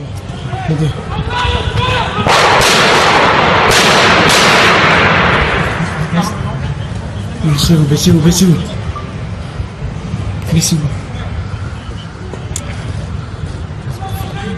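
Gunfire at the Paris newspaper terror attack, heard from a rooftop: a loud burst of sharp reports early on, followed by further shots and commotion, with voices of people shouting and talking throughout.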